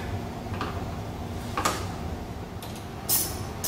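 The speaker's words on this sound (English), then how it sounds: "This is accomplished by removing these 8 push lock pins." Eight plastic push lock pins are pried from a car's radiator cover ahead of front bumper removal for a dual fan heat exchanger install; several brief clicks and scrapes come at spaced intervals against a steady background noise.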